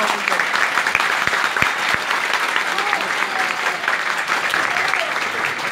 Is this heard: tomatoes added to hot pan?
no